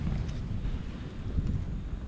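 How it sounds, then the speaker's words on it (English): Steady wind on a fishing pier at night buffets the microphone with low, rumbling gusts, a continuous rough roar with no pauses. "So yeah, that wind is still up"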